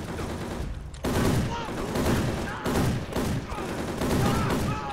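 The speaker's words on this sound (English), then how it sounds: "Oh, I'm getting shot again." Gunfire in the video game Soldier of Fortune: Payback comes in several loud, dense bursts of rapid shots separated by brief gaps.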